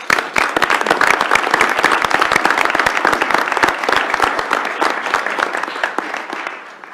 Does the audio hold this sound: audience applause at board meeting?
yes